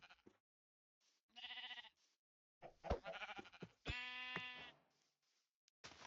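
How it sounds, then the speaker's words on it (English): Minecraft sheep bleat several times at close range, each call a short wavering baa separated by silences. "so I decided to go back to killing sheep"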